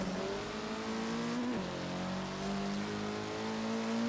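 A Honda Type R race car's engine drones and revs in Forza Horizon 3, a steady buzzing whine that dips sharply at a gear change, then climbs again with no talk over it.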